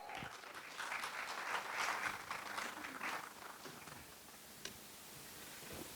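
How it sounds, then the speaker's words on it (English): A conference audience applauds as a speaker is invited on stage, a fairly faint, distant patter of clapping that swells, then thins out toward the end with a few isolated claps. "So please help me out to invite Mr. Amit Karandikar sir with a big round of applause."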